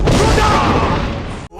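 A loud, booming blast lasting about a second and a half, cutting off abruptly into near silence: the Fus Ro Dah dragon shout effect from the video game Skyrim.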